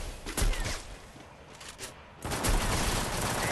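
Rapid bursts of gunfire from the Free Fire battle royale game, clustered volleys at full loudness with a brief lull midway before a dense, sustained stretch of shooting.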